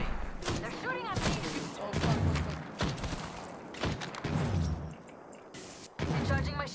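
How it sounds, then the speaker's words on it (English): Enemy gunfire in Apex Legends Mobile, scattered loud shots and impacts in irregular bursts mixed with thuds, with a player's voice talking over the action. "They're shooting at me!"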